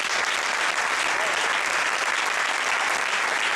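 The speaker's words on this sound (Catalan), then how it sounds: "Un aplaudiment, sisplau." Steady, dense applause from a crowd fills the whole stretch, loud and continuous without breaks.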